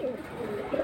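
A male Bezi high-flying pigeon gives soft, low coos close by, two murmuring phrases within about a second against a faint background.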